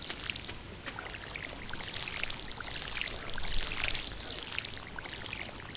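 A watering can refills with water in Stardew Valley, a soft continuous pouring, splashing stream at low volume that runs steadily with a slight swell partway through.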